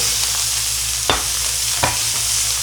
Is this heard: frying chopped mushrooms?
yes